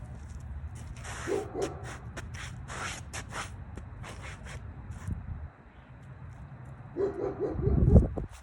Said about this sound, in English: You probably heard barking.